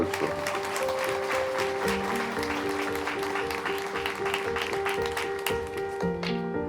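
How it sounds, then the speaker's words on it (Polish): A crowd applauds the provincial governor at an outdoor ceremony unveiling a monument to Cardinal Stefan Wyszyński in Lublin. The clapping is steady and moderately loud, with sustained tones of music playing underneath throughout. "Prośmy oklaskami pana wojewodę"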